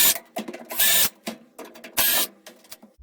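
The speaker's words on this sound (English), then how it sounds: "we will be removing 3 screws in the back of the dryer." Power screwdriver or drill removing screws from the back panel of an LG dryer, two loud bursts of whirring with quieter handling clicks and rattles between them, close up.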